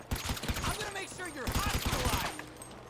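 Gunfire in GTA 5 during a zombie outbreak, a rapid automatic burst that rattles across the clip in uneven runs of shots, with a voice speaking over parts of it.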